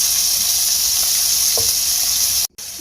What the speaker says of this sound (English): we are going to cook this shrimp for about 2 minutes on each side